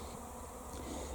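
A swarm of bees settled on a currant bush at an allotment plot gives a steady, dense buzzing drone, faint and even throughout, with no speech.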